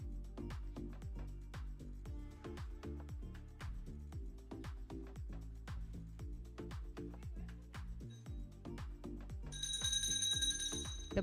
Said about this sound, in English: The bell's gone off.